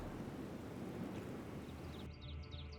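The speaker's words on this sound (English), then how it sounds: "Rain? That will slow down my cavalry." Steady rain and rumbling thunder roar loudly and continuously in Medieval: Total War, then abruptly thin out to quieter rain with faint bird-like chirps.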